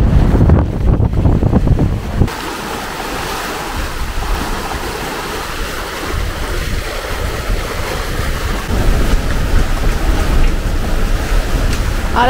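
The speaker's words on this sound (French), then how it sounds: "le vent a monté très très fort" Strong wind roars along the coast of Fuerteventura during a sailing trip, a loud, continuous rushing mixed with the wash of waves, harsh microphone buffeting at the start, and no voices.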